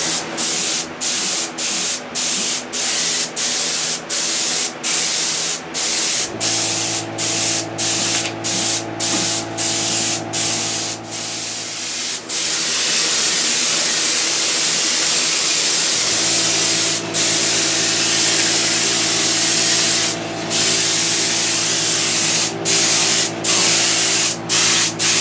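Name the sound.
spraying 2K clear coat on a Bugdroid model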